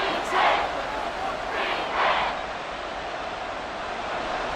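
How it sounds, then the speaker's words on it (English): A continuous stadium crowd roar from a simulated Colts versus Texans football game in Madden NFL 24 swells in a few loud surges over a steady dense wash of noise. "And the crowd a major factor now."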